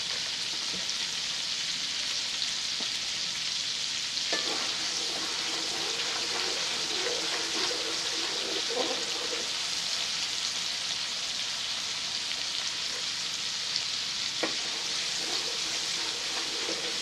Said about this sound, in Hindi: अदरक लहसुन का पेस्ट फ्राई हो गया है।